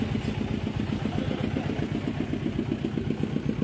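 A scooter engine idling, a steady, even, close mechanical putter with a regular rhythm running unbroken throughout.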